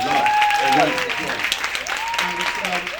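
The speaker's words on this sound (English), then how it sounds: "Give a round of applause." Audience applause at a school event, many hands clapping in a crowd while voices and cheering rise over it, fairly loud throughout the short stretch.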